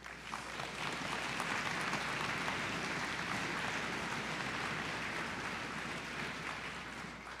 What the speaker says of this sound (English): we're getting all of our clapping out before the concert